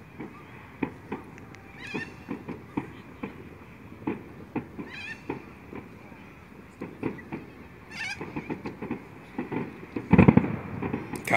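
New Year fireworks going off across a city skyline in irregular bursts, with repeated crackling pops and thuds and a heavier cluster of booms near the end, some faint voices underneath.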